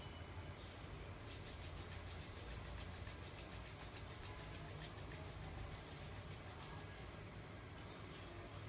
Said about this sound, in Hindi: अब दोनों हाथों को आपस में रगड़ो।